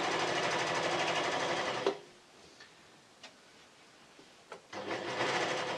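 A serger sewing machine runs fast over T-shirt fabric in a loud, even whir, then stops for a few seconds with only faint ticks and clicks before starting again.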